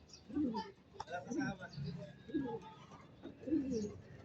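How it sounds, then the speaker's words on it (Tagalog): Pigeons coo nearby in soft, repeated throaty calls while a person talks quietly in the background. "Ayan pa yung mga kalapati na iba."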